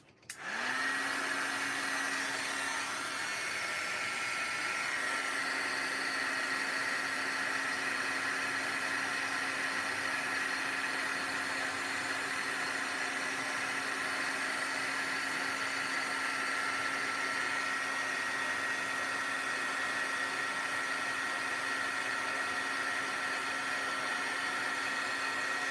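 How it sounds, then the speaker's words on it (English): A heat gun runs steadily for the whole stretch while clear powder is heat embossed on a handmade card, a loud, constant airy whir with a steady tonal hum and no talking. "we'll go ahead and heat emboss this."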